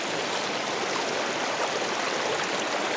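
A flooded Torsha river rushing past a Chhath puja ghat: a dense, unbroken roar of fast water, loud and close, with no voices.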